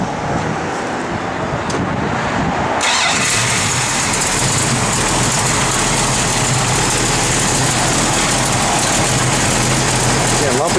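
A 1973 Plymouth Cuda's engine turns over and fires, then settles into a loud, steady, rumbling idle close by, with some talk partly over it.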